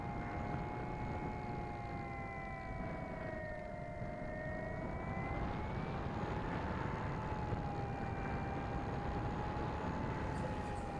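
A Cyclops Tornado RC model plane flies far off, its steady propeller drone wavering gently in pitch and sustained throughout over a constant outdoor background wash.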